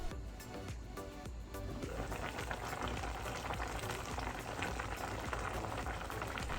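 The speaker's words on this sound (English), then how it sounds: "we can add in the onion and green pepper. Let it simmer for another 5 minutes." Korean spicy chicken stew with onion and green pepper simmering in a pot, a continuous close bubbling hiss with dense popping, steady throughout.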